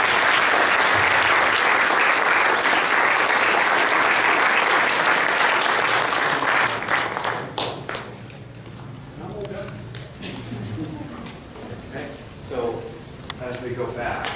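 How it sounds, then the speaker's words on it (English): Loud, dense audience applause for a high school jazz band at Berklee, dying away after about seven seconds into scattered claps and murmuring crowd talk. "How about another round of applause?"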